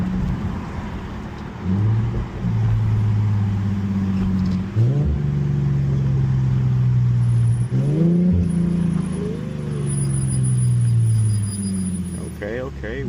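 VR30-swapped Infiniti G37X on the road, engine droning steadily close by with a few rev rises and gear changes, voices talking over it throughout.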